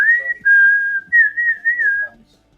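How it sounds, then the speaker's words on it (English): A person whistles a family call to summon cats, a loud, close series of clear sustained tones with short gaps and slight pitch glides, heard alone in a quiet room. "I've taught the cats to learn the family whistle"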